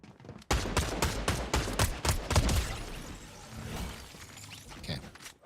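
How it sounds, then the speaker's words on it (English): A burst of rapid, loud automatic gunfire in a shooter video game, with a dense run of sharp shots that fades into rumbling and scattered fainter reports. "I saw gunfire."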